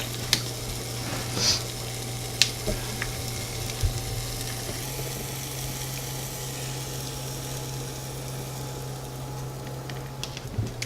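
Cheese and egg crisp in a hot pan with a steady, even sizzle close by, a few sharp crackles and taps rising over the constant frying hiss and a low hum.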